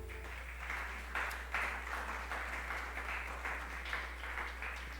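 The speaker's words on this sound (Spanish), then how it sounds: "Dale un fuerte aplauso al Señor." A church congregation claps together in sustained, rhythmic applause, heard a little distant and fairly quiet over a low steady hum.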